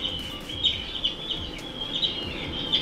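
Repeated sharp seabird cries ring out over a constant rushing sea bed in a game ambience loop, several calls spaced across a few seconds, near and clear, no voices.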